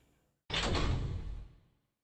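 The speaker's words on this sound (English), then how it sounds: "I heard the sound of a heavily locked door opening" A heavily locked door swings open in the Steins;Gate 0 video game, a single loud burst with a clunk and a sustained heavy sweep lasting about a second before fading, alone without talk.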